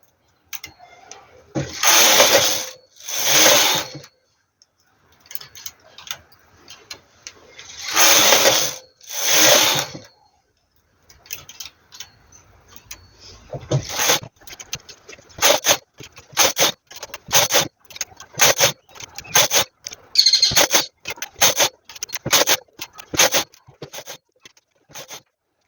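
A knitting machine carriage is pushed across the needle bed while knitting a school sleeveless sweater. Two long swishing passes come first, then a quick run of short rattling, clicking strokes, close up with no speech.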